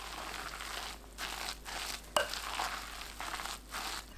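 Korean pancake batter of frying mix, minced garlic, zucchini, onion and chili stirred in a bowl, a steady wet crinkling and squelching with brief pauses and one sharp scrape, close and moderately quiet.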